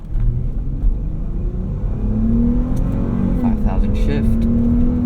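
A 2017 Dodge Charger V6 launching from a rolling start, heard from inside the cabin as a loud, steady engine drone that climbs in pitch while accelerating, with some faint voices and cabin noise over the rumble.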